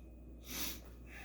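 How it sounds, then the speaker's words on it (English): A person forces out a fake yawn: one breathy, drawn-out exhalation that swells and fades over about a second, close and alone with no talking. "Again, try to do a fake yawn."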